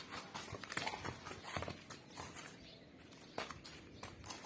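A mare walking toward her stall, hooves clip-clopping in a steady, fairly close rhythm against light background noise, with no one talking.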